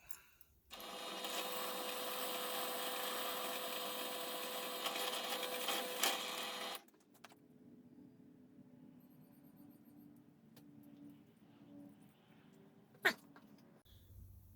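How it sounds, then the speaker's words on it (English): A power drill whines loudly into a metal throttle cable bracket for several seconds, then stops, followed by quieter scraping and light tapping as the hole is threaded, with a sharp click near the end. "now I'll drill that and tap it."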